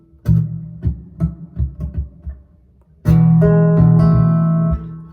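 An acoustic guitar plays the opening of a song, a series of short plucked bass notes followed by a fuller strummed chord that rings out for about two seconds, close and alone without voices.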